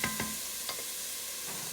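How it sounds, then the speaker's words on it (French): Onion and garlic fry gently over medium heat for a pizza sauce, a soft, low sizzle with a few quick utensil scrapes near the start. "je vais laisser le temps à mon oignon et à mon ail de prendre"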